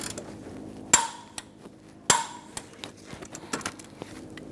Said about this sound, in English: Now we can torque our last one here to 65 as well.